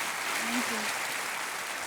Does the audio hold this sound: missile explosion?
no